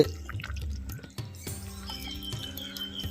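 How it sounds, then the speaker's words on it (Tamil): A pot of fried sardine fish curry bubbles at a boil, with soft, close liquid blips and drips popping irregularly over a low background. "பொறிச்ச மத்தி மீனை நம்ம குழம்புல சேர்த்து ஒரு அஞ்சு நிமிஷம் ஆயிடுச்சு பாருங்கள் நல்லா கொதியும் வந்துருச்சு"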